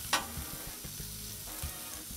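Chicken fajita strips marinated in chipotle roasted garlic seasoning sizzle steadily on a Blackstone 22-inch griddle, a continuous close frying hiss broken by soft scraping and stirring knocks as the meat is spread out.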